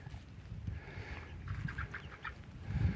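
Several chickens cluck softly in short, scattered bursts at a high-elevation homestead at 7000 feet, fairly quiet, over a low background rumble.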